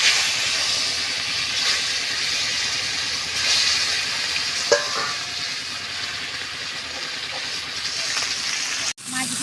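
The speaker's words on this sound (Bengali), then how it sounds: "বাকি মাছ তিনটেও আমি এইভাবে ভেজে নেব।" Mrigal fish pieces frying in hot oil give a steady, loud hiss throughout, with a soft knock midway and a sharp dip near the end; no voice is heard.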